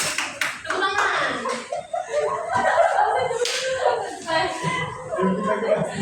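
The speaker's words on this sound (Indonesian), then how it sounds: "Tepuk tangan." A classroom group claps together during a microteaching session, a burst of sharp hand claps mixed with chuckles and nearby talking voices.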